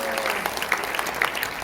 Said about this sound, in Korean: 이충호 박사님께도 여러분 감사의 박수를 보내주시기 바랍니다